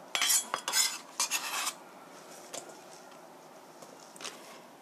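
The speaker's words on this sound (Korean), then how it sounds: "이렇게 손톱은 감추시고 썰어서 볼에 담아주시고요." Cucumber sliced with a kitchen knife and the pieces placed into a bowl: a quick cluster of crisp clinks and scrapes, a second burst, then a few fainter taps, close and with no talk.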